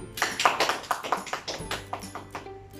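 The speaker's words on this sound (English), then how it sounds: "Let's give a round of applause to everyone." A small group applauding in a classroom, a round of scattered, uneven claps that thin out over a few seconds.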